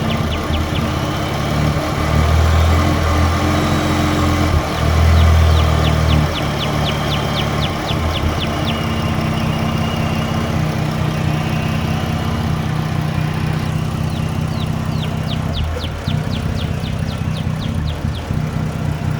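A Dodge Journey engine idles steadily with a suspect, partly failing alternator, a continuous low hum and whine up close, with faint rapid ticking bursts at times and no talk over it.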